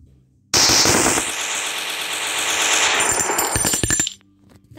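StG 44 assault rifle in a WW2 video game, fired on full automatic as one loud, sustained burst of rapid shots lasting about three and a half seconds, then stopping abruptly.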